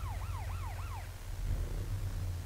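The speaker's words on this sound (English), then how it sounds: "I heard a siren." A wailing siren rises and falls in three quick sweeps in the video game Arma Takistan Life, moderately loud over a constant low rumble, then fades into engine drone.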